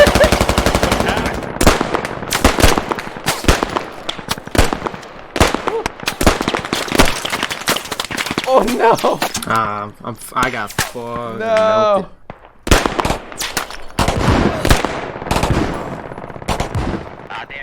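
Rapid machine gun fire in the video game Squad, loud bursts of automatic shots with a brief lull in the middle, while a voice exclaims over the gunfire.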